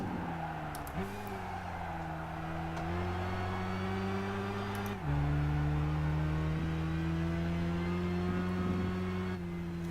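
A turbocharged race car engine in Gran Turismo 5 revs hard and steadily, holding a loud droning pitch that climbs, drops sharply at each gear change, then climbs again.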